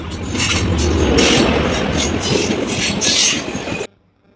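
A train rolls past close by with a loud rumble and clattering wheels, then the sound cuts off abruptly.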